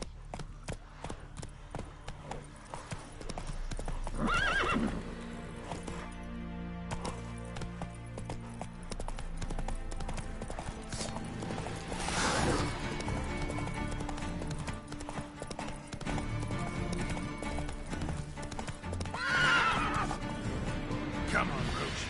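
Roach, the horse in the video game The Witcher 3, gallops with steady clip-clop hoofbeats and whinnies loudly twice, near and clear over game music while someone talks.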